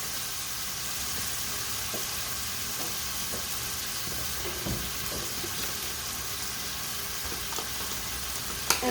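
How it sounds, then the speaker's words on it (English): Cold shrimp frying on high heat in a pan: a steady, loud sizzle holds throughout with a few faint clicks and taps, ending in a brief clatter. "cook up my shrimp. And I try to put it on high because my shrimp were kind of cold."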